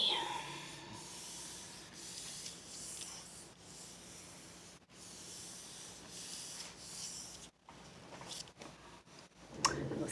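Paper rubbed by hand onto a gel printing plate: a soft, steady scratchy rubbing that runs continuously, faint and close, with brief pauses and small squishy pressure shifts along the way.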